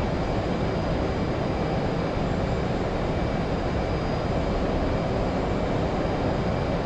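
An F-18 jet roars low and supersonic over the control tower in the DCS flight simulator, a loud, continuous, broadband engine blast that fills the entire stretch without a break.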